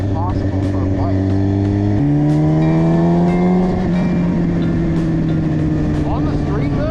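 A Kawasaki 636 sport motorcycle ridden on the street, its engine droning loud and close with rising and falling revs through gear changes, wind rushing over it.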